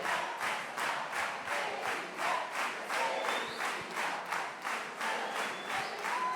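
Church congregation clapping in a steady rhythmic beat, a crowd keeping time together in loud regular pulses throughout.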